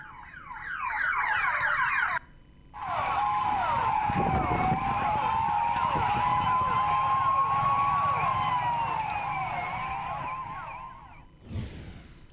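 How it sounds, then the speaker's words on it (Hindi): Ambulance sirens from a funeral convoy of dozens of ambulances, loud and continuous with wailing, sweeping tones that hold for about nine seconds after a brief siren burst and short pause, ending abruptly. "पीछे पीछे एम्बुलेंस वाहनों का सायरन बजाता रहा"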